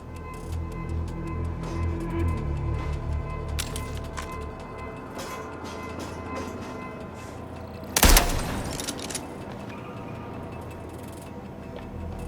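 Gunfire in the video game MindsEye, with a rapid crackle of shots under steady game ambience and a single loud, sharp blast standing out near the end.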